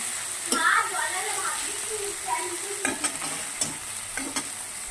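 Kasuri methi tempering in hot oil, a steady close sizzle with occasional sharp clinks and scrapes of a spoon against the pan.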